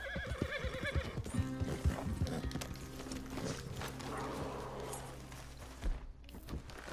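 Horse in the video game Red Dead Redemption 2 neighing with a shrill whinny, followed by hoof clip-clops and snorting, fairly close with game ambience behind.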